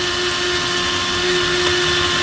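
An Indian kitchen mixer grinder whirs loudly and steadily with a harsh motor drone and grinding rattle, close by, with no pauses.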